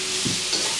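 Chicken gizzard being stirred in a hot pan with chilli and salt, a soft scrape of the spoon over steady frying sizzle, close and brief.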